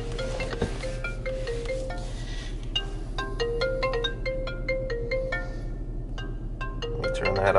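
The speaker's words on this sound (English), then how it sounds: "Oh, phone's ringing." A phone ringtone plays a repeating electronic melody of short bright notes, loud and close, continuing for several seconds with no talking.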